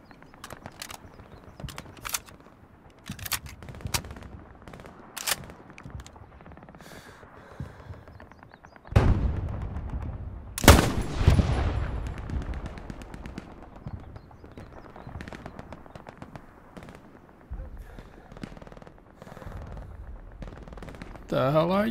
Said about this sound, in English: Are they shooting at me? I think they are.